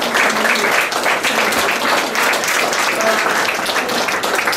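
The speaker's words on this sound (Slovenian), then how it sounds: "En aplavz še zanje" A crowd applauds steadily throughout at a gallery exhibition opening, dense and continuous clapping filling the room at even loudness.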